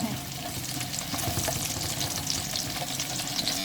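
Onions fry in hot oil for beef biryani, a loud, close crackling sizzle with scattered pops and stirring scrapes running continuously.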